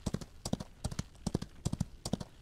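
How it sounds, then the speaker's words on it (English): A horse gallops in the Outlaws of the Old West video game, its hooves drumming in quick repeated clusters of three or four beats, close and clear with no talk over it. "We're just galloping along like John Wayne."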